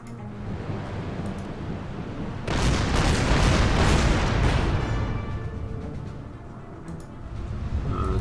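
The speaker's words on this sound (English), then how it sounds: "let's start shooting on those destroyers" Naval guns in the strategy game Order of Battle, with Kriegsmarine ships firing on destroyers, let out a heavy boom that swells into a long roaring rumble lasting a few seconds before fading back to a low background din.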